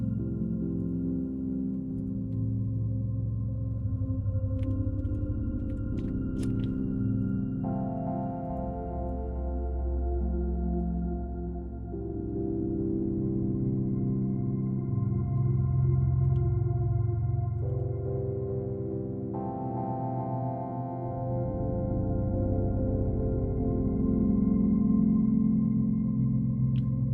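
Programmed electronic music made in Sonic Pi plays steadily throughout, with layered sustained synth tones and chord changes every few seconds, at a moderate, even level with no talking.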